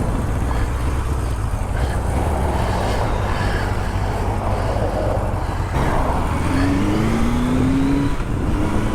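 A vintage Kawasaki motorcycle rides off, its engine a loud, steady drone that rises and shifts in pitch near the end, with wind rumble throughout.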